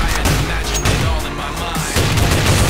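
Gunfire from the game Counter-Strike: Source, a loud, dense burst of rapid shots and booms that fills the whole moment, close and continuous with little pause.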